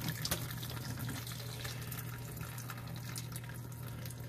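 Hot pasta water from a full load of noodles pours through a Chef'n clip-on strainer, a steady loud rushing splash that holds for about four seconds without a break.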